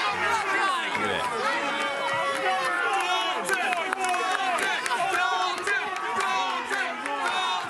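A Ring of Honor wrestling crowd rallies behind the number one contender for the World Television Championship, with loud, sustained chanting, shouting and cheering from a packed arena and a dense chorus of voices throughout.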